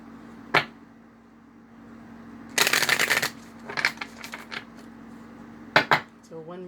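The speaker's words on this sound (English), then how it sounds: "one more shuffle" Cards are shuffled up close in a quick riffle with a few sharp snaps and taps around it, and a voice starts to speak at the very end.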